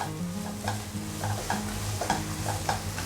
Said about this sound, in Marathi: आता छान मस्त असं फ्राय करूया